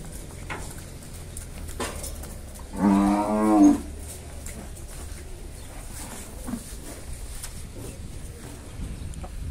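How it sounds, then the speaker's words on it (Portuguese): Cattle moo in a slaughterhouse holding pen, one loud, close bellow lasting about a second over a low background murmur of the yard. "Olha aí, um boi."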